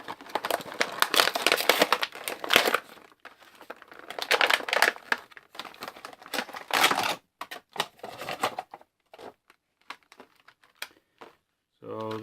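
Small plastic ties on boxed Mattel Halo action figure packaging crinkle and snap in quick, close bursts of crackling handling noise, with talking over much of it and pauses of near silence between.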